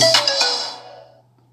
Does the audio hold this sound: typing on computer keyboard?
no